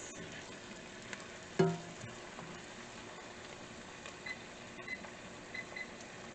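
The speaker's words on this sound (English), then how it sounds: "We're going to stir this up here, and we're going to cook for 2 minutes." A spoon stirs creamy keto white chili in a pot, with soft scraping, a low simmering hiss and one louder clink early on, all fairly faint and without talk.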